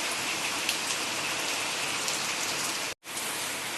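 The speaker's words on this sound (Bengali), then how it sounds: "কিভাবে বৃষ্টি হচ্ছে," Heavy downpour outdoors, a loud, uniform wash of rain on surfaces with scattered drips, continuous except for a brief dropout near the end, no talk.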